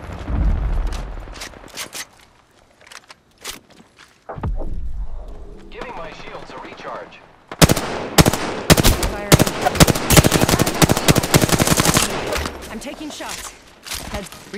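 Rapid bursts of automatic gunfire crackle in a squad battle royale match, sparse shots and a quieter lull giving way to loud sustained volleys, with a player talking throughout.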